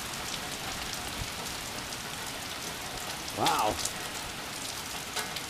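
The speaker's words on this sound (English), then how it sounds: "Getting a lot of rain." Heavy rain falls steadily outside, a dense continuous hiss of drops hitting surfaces, with a brief exclamation from a man partway through.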